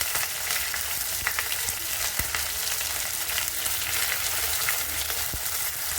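Spices sizzling and frying for a tadka in a pan over a low gas flame, a steady close crackle with scattered small pops throughout and no voices.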